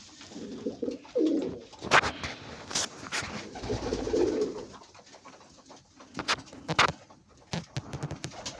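Pigeons coo in low rolling calls, with wing flaps and scattered clattering flutters as birds move and take off nearby.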